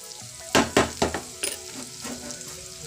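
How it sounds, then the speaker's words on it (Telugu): Onions fry in a hot tempering for gongura pulusu, with a soft sizzle broken by several loud stirring scrapes and clacks early on that fade to lighter stirs. "గోల్డెన్ కలర్లోకి వేగేంత వరకు వేయించుకోవాలి."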